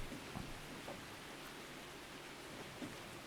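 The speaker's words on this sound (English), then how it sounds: "That rain does sound quite nice" Steady, even hiss of rain falling in a train simulator game, a soft continuous wash with a few faint drips, no voices.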